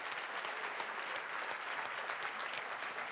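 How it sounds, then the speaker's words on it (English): Steady, even applause from an audience at a university graduation ceremony, a continuous wash of many hands clapping at moderate distance with no voices standing out. "I think we should all now just jolly well clap each other"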